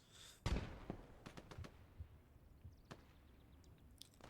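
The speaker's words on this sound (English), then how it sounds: "Ooh, a little grenade action. Almost taking me out." A grenade blast in Gates of Hell: Ostfront, a WWII strategy game: one sharp, loud detonation near the start, followed by scattered small pops and crackles that fade.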